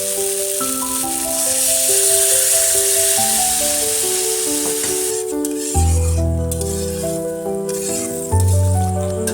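Spice paste frying in a pan for a vegetarian chhana dalna, giving a steady, close sizzling hiss with stirring scrapes as water goes in, all under continuous background music.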